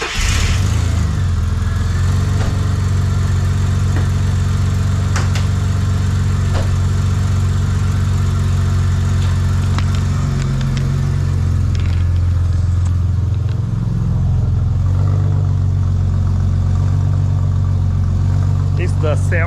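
Ford AU XR6 ute engine idles steadily with a deep, even low rumble and a slight exhaust leak, a close continuous drone with a few small ticks and a faint rise near the end.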